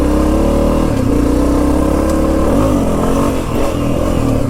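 A Honda CRF250F dirt bike engine revs loudly and steadily up close, its exhaust barking with small pitch dips and rises, no talking.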